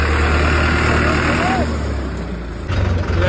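A farm tractor's engine rumbles steadily out by the field, loud and close. Its low, even drone shifts slightly near the end, and a voice speaks over it.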